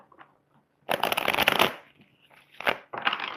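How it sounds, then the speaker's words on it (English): Tarot cards being riffled and pulled during a love reading: a quiet flick, then a loud dense burst of shuffling for nearly a second, followed by two shorter card snaps, close and with no talking. "Let's go ahead and pull another card."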